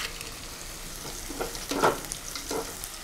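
Garlic, onion and green chilli fry in hot oil for a mullet fish curry, a steady close sizzle with a few louder stirring scrapes and no talking.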